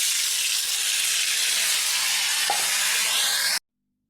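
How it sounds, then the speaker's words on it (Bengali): Loud, hissing sizzle of ivy gourd frying in mustard oil, steady and close, cutting off abruptly before the end. "এবার আমি এটাকে খুব ভালো করে ভেজে নেব"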